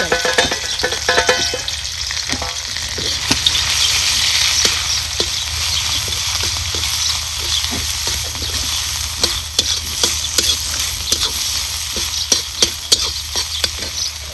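Crushed corn mixture sautéing in hot oil, with a loud continuous sizzle and frequent sharp scraping stirs all the way through.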